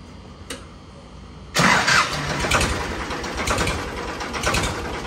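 A tractor engine cranks and catches after a short quiet stretch, then settles into a loud, close, steady idle with rhythmic chugging.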